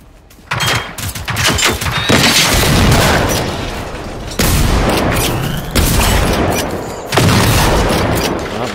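Loud, close bursts of machine gun fire in the shooter game Generation Zero, several sustained rattling volleys separated by brief pauses.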